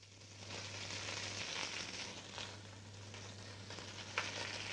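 Diced celery root and onion sauté in a pan with a soft, steady, faint sizzle and occasional light stirring sounds, under a low constant hum.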